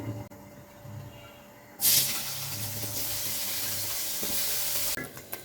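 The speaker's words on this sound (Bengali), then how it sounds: "এখন পনিরগুলো ভেজে নেব" Paneer pieces frying in a pan of hot oil, with a loud, steady sizzle that bursts in suddenly after a quieter stretch and carries on for several seconds before cutting off.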